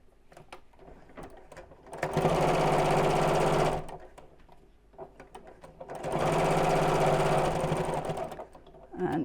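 A sewing machine stitches a zipped biscornu fabric pouch in two loud, steady bursts of about two seconds each, with quieter handling and pauses between them and no talking.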